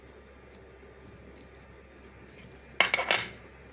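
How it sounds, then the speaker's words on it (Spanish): Sharp clipping snaps from cutters severing the filament hose on a Creality Ender 3D printer, a brief cluster of close, crisp cuts near the end after a quiet stretch. "Vamos a cortar la manguera full."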